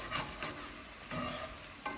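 Scrambled eggs being stirred and scraped across the bottom of a hot pan, with a steady soft sizzle and several spoon scrapes, close by.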